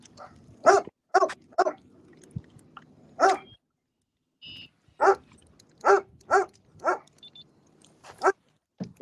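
A dog barks while guarding a fish at a national championship fishing event. Several sharp barks come in irregular bursts, with short yips and whimpers between them, at moderate distance in quiet outdoor surroundings.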